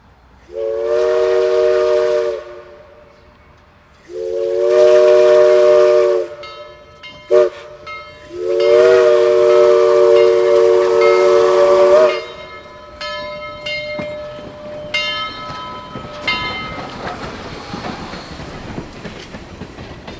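Southern Railway No. 4501 steam locomotive rolls through Avondale's grade crossings in Chattanooga, sounding three loud, long whistle blasts with a short toot between, then fading hiss, clatter and a softer bell-like ring as it passes.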